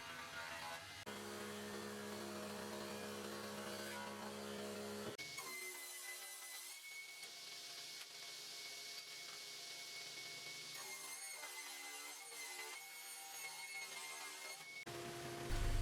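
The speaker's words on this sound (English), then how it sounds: "Using a dado blade, I can create the large and smaller grooves in all the pieces." A table saw fitted with a dado blade cuts grooves in wooden pieces, a steady high whine with the cut rising and falling in intensity, heard alone at moderate level.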